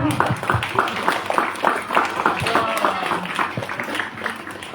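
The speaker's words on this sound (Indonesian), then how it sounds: "Beri tepuk tangan dong." Applause from a school audience at a book launch, with many hands clapping in an uneven rhythm, close and fairly loud, and voices and crowd chatter mixed in throughout.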